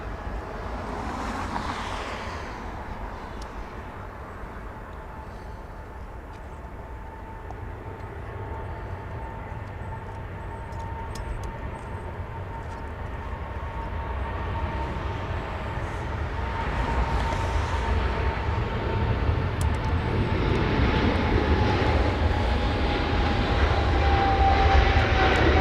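A Singapore Airlines jet takes off from Los Angeles International Airport, its engines a broad steady roar with a thin whine that builds louder over nearly half a minute, heard from a distance with no talk.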